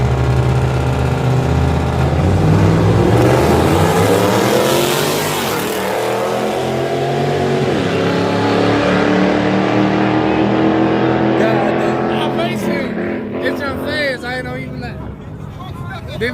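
A street-racing car's engine revs and roars loudly, pitch climbing and falling as it accelerates at an underground night race, with people talking over it throughout.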